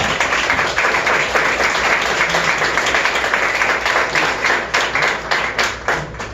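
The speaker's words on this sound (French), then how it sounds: "Une bonne main d'applaudissements pour lui." Comedy club audience in Montréal applauding, a dense, steady wash of clapping from many hands that holds for the whole stretch and thins slightly toward the end.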